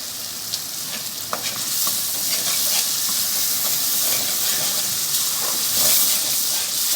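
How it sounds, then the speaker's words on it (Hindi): Okra frying in a pan with masala gives a loud, continuous hissing sizzle, with occasional stirring scrapes on top. "साथ साथ हमारी भिंडी यहाँ फ्राई हो रही है"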